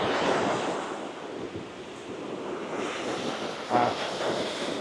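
Ocean surf washes onto Khem Beach on Phu Quoc Island, a steady soft rush of waves with wind buffeting the microphone and one slightly louder wave breaking near the end.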